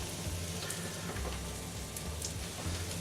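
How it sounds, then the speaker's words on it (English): Lamb dopiaza curry simmering low in a pot, a soft, steady bubbling and sizzling hiss with faint pops, close and continuous throughout. "I turn it down to a fairly low simmer for about 40 minutes"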